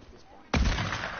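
A gunshot in a Fortnite-style shooter game going off suddenly at a moderate distance. A loud broadband blast lands partway through and trails off into rumbling game noise.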